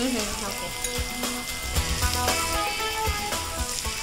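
Onions frying in a pan for chicken muttila curry, a continuous close sizzle with occasional scraping and knocking from stirring, no voices over it.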